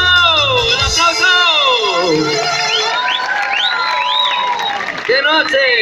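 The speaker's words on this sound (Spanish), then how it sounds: "¡Un aplauso!" Audience at a live concert applauding and cheering, steady dense clapping with whoops and many overlapping voices shouting and singing over it, loud and close throughout.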